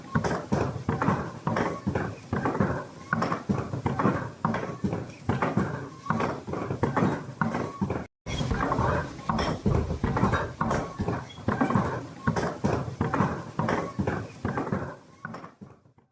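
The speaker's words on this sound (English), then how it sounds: "Before being smashed by the water-powered trip hammer." A water-powered trip hammer pounds stones for porcelain raw material, heavy mechanical thuds repeating in a fast, steady rhythm, loud and close, with a brief break midway before the thudding resumes.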